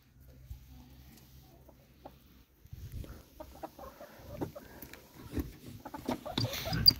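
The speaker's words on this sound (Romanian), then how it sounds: "Găină Iza Brown, încă mai ouă" Isa Brown laying hens cluck softly and intermittently, close by, with scattered scratching and rustling; the clucking grows busier and louder toward the end.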